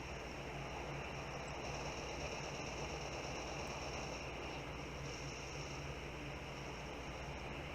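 Piston-engined Bf-110 C-4 heavy fighter and dive bomber in War Thunder, a steady loud engine drone with broadband roar running unbroken throughout, no talk over it.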